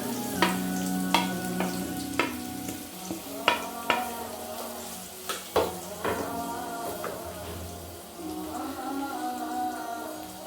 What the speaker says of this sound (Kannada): ಅದೊಂಚೂರು ಫ್ರೈ ಆಗಿದ್ದಾದ್ಮೇಲೆ ಈರುಳ್ಳಿಯನ್ನು ಹಾಕೊತೀನಿ